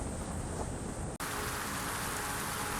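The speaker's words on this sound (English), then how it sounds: "just now we got our first in-game rain effect" Rain effect in the video game Satisfactory: a dense, steady wash of rainfall noise that drops out for an instant and then returns a little brighter and fuller.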